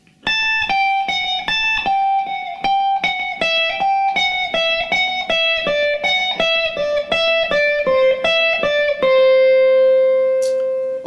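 Distorted electric guitar plays a fast descending shred lick on a single string with alternate picking, crisp repeated notes stepping downward in quick rhythm before settling into one sustained ringing note, loud and alone.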